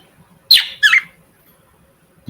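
Two sharp squawks from pet budgies in a cage, one right after the other, close and loud against a quiet room.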